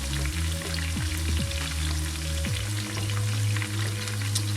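Onions and garlic fry in a pan until golden brown, giving a steady, dense sizzle. A droning tonal hum sits underneath, with a few short pitch slides.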